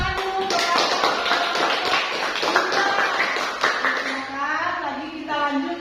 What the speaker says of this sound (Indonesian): Kita beri tepuk tangan dulu kepada